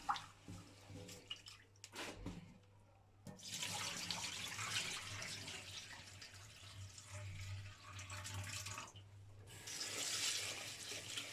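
Tap water running and splashing into a bowl while rice is rinsed for Turkish pilaf, a soft continuous kitchen flow with a few clinks early on, fairly faint and close.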